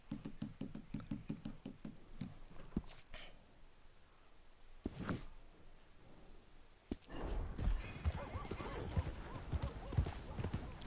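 Rapid clip-clop of horse hooves in the video game Red Dead Redemption 2, then a neigh and a snort, followed by heavier trotting hoofbeats and rustling, fairly close and moderately quiet.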